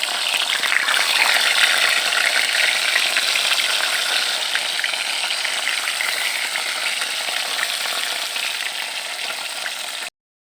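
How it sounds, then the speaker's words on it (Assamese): Loud, continuous sizzling and crackling of fish frying in hot oil, close up, with no voices. "মাছ ফ্ৰাই কৰিলে যিহেতু বহুত ভয় লাগে মোৰ, তেল চিটিকে পৰে বুলি।"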